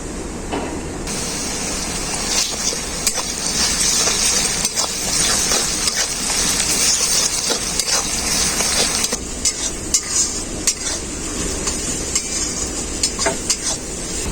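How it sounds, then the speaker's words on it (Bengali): Garlic paste fries with onions in a pan, a steady sizzle punctuated by frequent scraping and clinking stirs of a utensil against the metal, close and continuous without talk. "রসুনটা খুব ভালো করে ভেজে নিয়েছি রসুনের যে কাঁচা গন্ধটা সেই গন্ধটা চলে গেছে"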